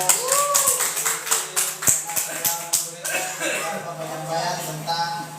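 Applause from an audience at a teachers' upgrading session at a school in Sumenep: scattered, uneven clapping close by, with someone speaking over it.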